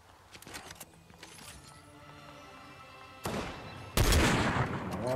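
Video game gunfire opens with scattered distant shots over a busy background. It swells into a dense, loud burst of rapid fire that continues to the end.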